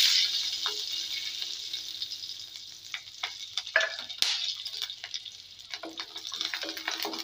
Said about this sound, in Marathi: आपण त्यामध्ये फक्त लसूण भाजून घ्यायचा